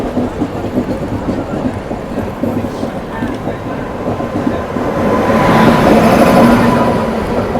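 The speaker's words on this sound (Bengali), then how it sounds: "রাজধানী এক্সপ্রেস দেখো রাজধানী দেখো মুম্বাই দিল্লি রাজধানী এক্সপ্রেস" The Mumbai–Delhi Rajdhani Express approaches on the line, a low rolling rumble that swells louder toward the end as it draws near, with faint voices in the background.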